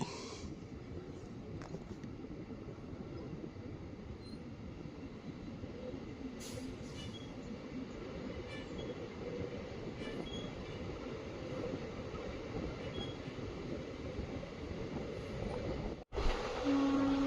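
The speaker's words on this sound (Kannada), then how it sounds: "ಮರಿಯಾಲ ಗಂಗಾವಾಡಿಯಿಂದ ನಮ್ಮ ರೈಲು ಹೊರಟು ಹಾಗೆ ನಿಂತು ಮತ್ತೆ ಹೊರಟಿದೆ." A train between Chamarajanagara and Mysore, heard from on board, runs steadily on the rails with a constant low rumble and rattle, faint squeals now and then, and a sudden cut near the end.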